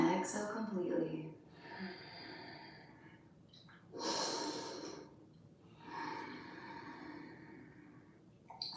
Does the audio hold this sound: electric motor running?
no